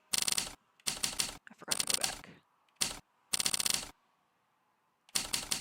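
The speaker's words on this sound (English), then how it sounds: "I'm sorry about the typewriter noises" Rapid mechanical typewriter keystrokes come in dense bursts of clattering clicks, separated by short pauses, loud and close, with no talking.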